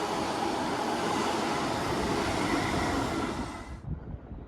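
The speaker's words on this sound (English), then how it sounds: "passing through now is going to be Avanti West Coast Avera on test from Edgehill Depot to London Euston" An Avanti West Coast Avera train on a test run from Edgehill Depot to London Euston passes as a loud, continuous rushing roar of wheels and wind, then cuts off abruptly near the end.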